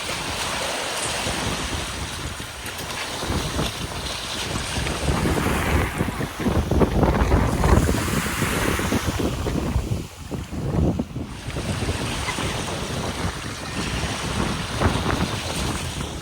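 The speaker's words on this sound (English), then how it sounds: "The wind is perfect." Steady wind gusts and rolling surf wash over a white sand beach in Greece, with heavy wind buffeting on the microphone throughout and no voices.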